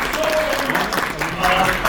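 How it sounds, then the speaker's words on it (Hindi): Audience at a sales training session applauds in a short, steady wash of clapping while a voice speaks over it. "अपने एक बार जोरदार तालियां बजा दीजिए"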